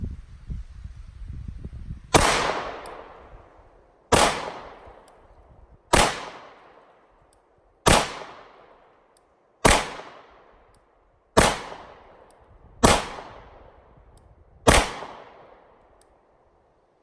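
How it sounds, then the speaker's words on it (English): Eight Glock 43X pistol shots fired at a steady pace about two seconds apart, each a sharp loud crack followed by a fading echo, with no talking between them. "First shot's down range."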